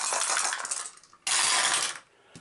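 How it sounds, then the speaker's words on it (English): Three blessed dice rattle and tumble in two quick bursts during an Eldritch Horror board game, each roll a loud clatter followed by a short pause and a faint final knock. "So he's going to roll 3 blessed dice."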